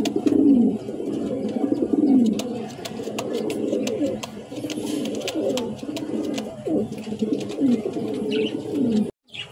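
A satin pigeon coos close by in a series of repeated, throaty rolling calls, with faint chirps and clatter around it before a sudden stop.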